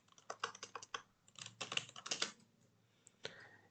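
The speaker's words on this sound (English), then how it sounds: "let me just type book here" Quick bursts of close, quiet keystrokes on a computer keyboard, about a dozen clacky taps in uneven clusters and then a final pair after a short pause, with no talking.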